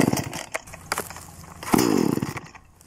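A chainsaw engine is cranked by its pull rope until the cylinder begins to fire. Choppy rattling pulls lead into a longer, buzzier burst of sputtering combustion up close, which then dies back down.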